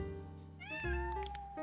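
A cat meows in a film scene, one drawn-out, rising then falling meow lasting over a second, fairly close and clear against a low background rumble, with no talk.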